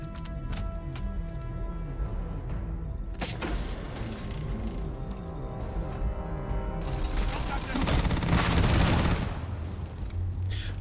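Weapon fire from the sci-fi shooter Starfield, a steady stream of rapid repeated shots under a continuous game soundscape with music, growing louder and denser toward the end, with a voice talking over it.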